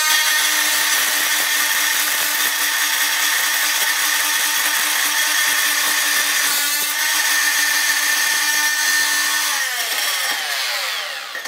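A Fein MultiMaster oscillating tool's blade cuts into nails and screws, giving a loud, continuous high-pitched buzzing grind that runs nearly the whole time and shifts pitch toward the end.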